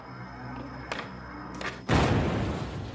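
A homemade bomb blasts open an automatic valve in a vacuum pipe system: a few dull thumps, then one sudden loud, broad explosive burst that rumbles on and fades slowly, up close.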